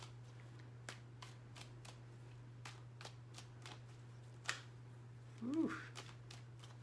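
Tarot cards being shuffled, a quick series of close, crisp riffles and flicks over a steady low hum, with a brief breathy exhale near the end.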